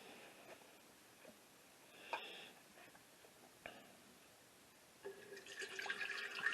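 Warm water is poured into a bread machine bowl: quiet drips and trickles with soft clinks, then a brief louder splash of running liquid near the end, with no talking.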